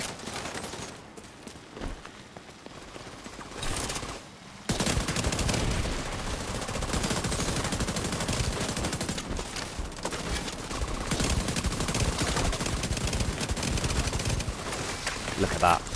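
An FAL rifle fires in the video game The Division 2, a dense, continuous stream of rapid gunshots after a brief quieter lead-in, loud and sustained with game noise layered in.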